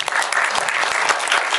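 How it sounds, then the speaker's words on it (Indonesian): Dense, loud, steady applause from a campus audience at an election-awareness event for KPU Padang Panjang, continuous and close throughout with no speech over it. "tepuk tangan dulu untuk KPU Padang Panjang"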